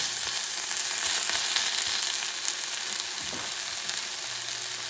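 Lean bison bacon fries dry without oil in a cast iron pan, making a continuous bright sizzle with occasional faint pops and a scrape of a utensil, heard close and steady.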